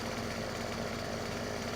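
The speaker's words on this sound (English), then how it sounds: "Let's try this with a chainsaw." A chainsaw in Farming Simulator 17 runs as a steady, fairly loud mechanical drone with a constant engine buzz and no pauses, heard alone for under two seconds.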